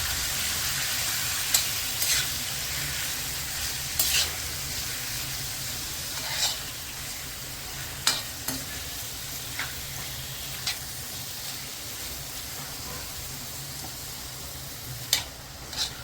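Chicken gizzard and liver frying in hot oil with turmeric and masala give a steady soft sizzle, while a spoon stirs and scrapes the pan in scattered light clinks. No one speaks.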